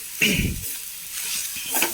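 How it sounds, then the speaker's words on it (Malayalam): Jackfruit seed and prawn curry sizzles steadily in a hot pan while a utensil scrapes and stirs through it in a couple of brief strokes. "ഒന്ന് ഇളക്കി കൊടുക്കാം അല്ലെങ്കിൽ സ്ഥലം ഉണ്ടാവില്ല"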